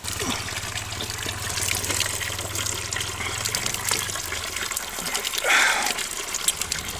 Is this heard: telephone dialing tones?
no